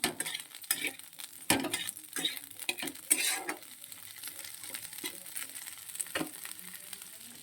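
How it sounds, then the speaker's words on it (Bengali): Cauliflower frying in a pan gives a soft, steady sizzle, broken by repeated sharp clinks and scrapes of a spatula stirring against the metal. Fairly quiet and close, with no speech. "ফুলকপিটা আগে থেকে ভেজে নিচ্ছি।"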